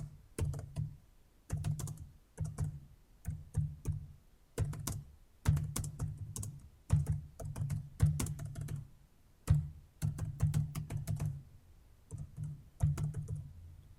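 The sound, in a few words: typing on computer keyboard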